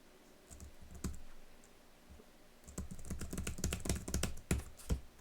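Computer keyboard typing while playing Android games on a Windows PC through an emulator: a few sparse clicks, then a dense burst of rapid, close key presses with sharp peaks, alone without talk.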